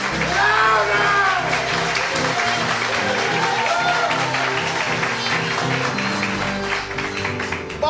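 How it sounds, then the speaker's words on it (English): Studio audience applause in a radio drama, a steady broadband wash of clapping lasting several seconds, with music and voices layered over it. "you in the studio audience are ordered to clap for yourselves"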